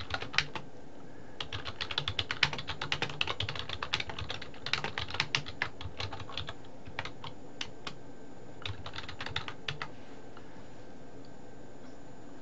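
Someone types on a computer keyboard in close, irregular bursts of rapid clicking with short pauses between, then stops, no talking.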